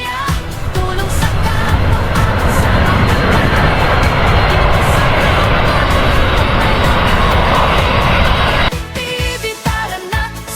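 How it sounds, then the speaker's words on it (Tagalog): An airplane arriving at an airport makes a loud, steady engine roar that fills nearly the whole stretch, then drops to a lower, rougher rumble near the end. "May dumating na aeroplano, guys."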